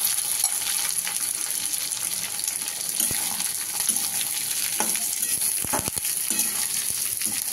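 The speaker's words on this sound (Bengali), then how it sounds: "এবার এটা আস্তে আস্তে ভাজা হবে।" Chopped onion, green chilli and potato fry slowly in a pan. A loud, steady sizzle is broken by scraping and clattering stirs, with a burst of knocks near the end.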